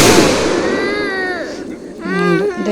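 A firecracker bursts with a loud, sharp crack at the start that quickly trails off, and voices talk right after.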